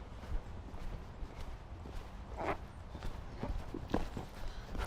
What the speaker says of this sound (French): Laisse galoper ton cheval